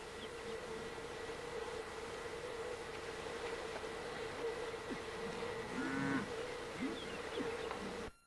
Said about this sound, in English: Some of the cattle